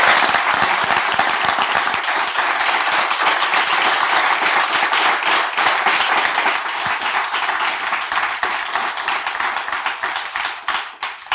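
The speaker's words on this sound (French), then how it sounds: "Est-ce qu'on peut applaudir très fort?" A church congregation bursts into loud, sustained applause, dense clapping that holds steady and fills the room before tapering slightly at the very end.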